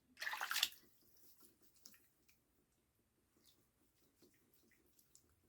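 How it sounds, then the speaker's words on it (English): Water runs briefly from a bathroom tap as a face is rinsed after a second shave pass against the grain with Proraso Sandalwood soap, a short splashing burst at the start followed by quiet handling sounds. "I'm going to rinse off and see where we're at."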